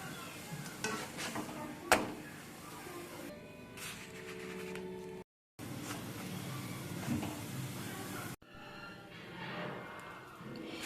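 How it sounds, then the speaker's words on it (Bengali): Pea-stuffed parathas fry in oil in a pan, giving a quiet, steady sizzle broken by brief clinks and scraping of a spatula, with two short silent cuts and no talk. "এভাবে করে আমি সব পরোটাগুলোকে ভেজে নেব।"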